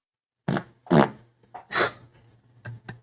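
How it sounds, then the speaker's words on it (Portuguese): A loud fart during a live stream, heard as a few short bursts of varying strength spread over about three seconds, with a steady low hum running underneath. "Caralho, que peidão."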